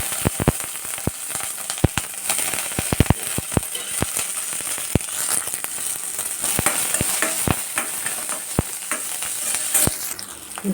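Green chilies and garlic frying in hot oil, a loud continuous sizzle with frequent sharp crackles and pops scattered throughout, nearby and without talk.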